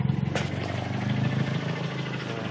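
A Nissan KA24DET engine fitted with LS2 coils and 1000cc injectors idles steadily up close, a loud, even buzzing rumble with a rhythmic pulse and no talk.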